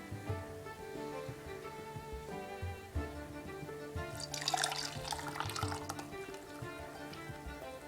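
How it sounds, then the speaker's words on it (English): Nettle infusion is poured through a tea strainer into a cup, a splashing, trickling pour rising midway and fading, heard over steady background music. "I'm going to pour it into this other cup using a tea strainer."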